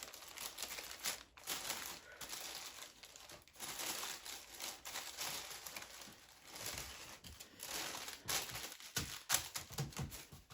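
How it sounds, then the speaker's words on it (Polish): Thin paper is bent and folded by hand, giving irregular crinkles and crackles with brief pauses between handlings, fairly close and quiet with no speech. "Nawet mogę ten papier tutaj wygiąć tak"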